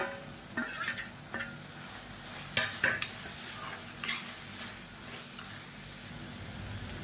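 Tomatoes and grated coconut sautéed in a pan for a quick tomato chutney, a steady soft sizzle broken by several sharp scraping stirs of a spatula, close and clear with no talking.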